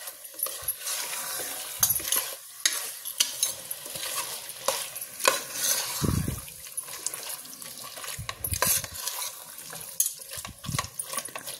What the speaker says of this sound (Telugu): ఒకసారి అంతా బాగా ఫ్రై చేసుకుందాం.